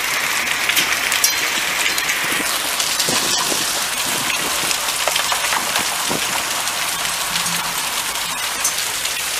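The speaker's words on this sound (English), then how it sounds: "Hailstorm, we get these in Wisconsin." A dense, steady clatter of hail pelting surfaces during a Wisconsin hailstorm in West Bend, golf ball-sized stones falling in April, a loud continuous roar of countless impacts with no voices.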